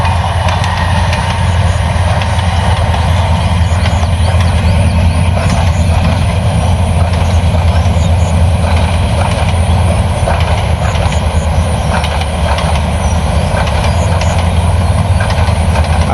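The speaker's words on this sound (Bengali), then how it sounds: "ট্রেন চলে যাইতাছে।" A long train passes close by, producing a loud, continuous rumble and rattle of rail cars that holds steady throughout.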